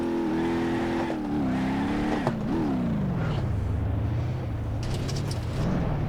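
A Gavril Barstow RS in BeamNG.drive starts and revs, its engine climbing and dipping in pitch before settling into a lower drone, loud and close with no talk.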